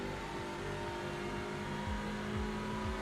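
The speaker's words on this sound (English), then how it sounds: "A slight lift you can hear in the revs." Touring car engine in the iRacing sim at Interlagos, revving steadily at high pitch with a very slight throttle lift dipping the revs, loud and continuous with no talk.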